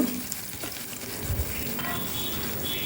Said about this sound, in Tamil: வெங்காயத்தை ஆட் பண்ண பிறகு நல்லா அதை வதக்கிக்கோங்க